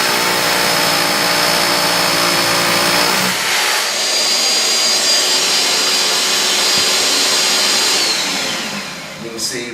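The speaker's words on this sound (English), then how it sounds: "the vacuum kicks on and starts sucking the dust out of this shroud" A cordless drill whines for a few seconds over a roaring dust extraction vacuum drawing dust from a drill shroud; the vacuum keeps running steadily and loudly on its own after the drilling stops.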